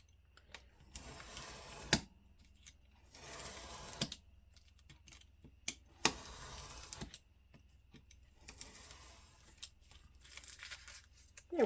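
Paper lunch bags are cut into journal pages, giving bursts of crisp paper rustling and snipping that come and go in several rounds, with sharp clicks between them; close and moderately loud, with no talking.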